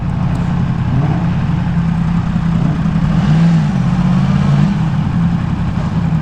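Yamaha YZF-R1M sport motorcycle engine running steadily at low revs during a slow U-turn on a Singapore road, a loud continuous mid-pitched drone with a slight swell midway and wind noise, no talk.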